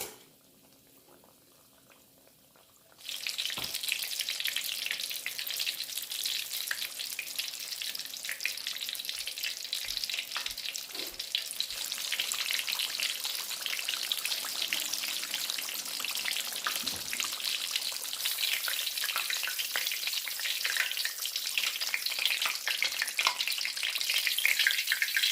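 Low carb pork egg rolls drop into hot oil after a quiet start, then a loud, continuous bubbling sizzle of deep frying holds close and steady to the end, with a few faint knocks.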